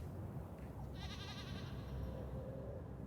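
A goat in a video game bleats once in a wavering, quivering cry lasting about a second, faint over a steady low background hum.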